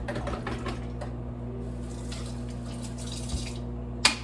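A spoon is rinsed under a running kitchen tap while a guacamole is made: a steady, fairly quiet stream of water with faint clinks, ending in a sharp metallic knock.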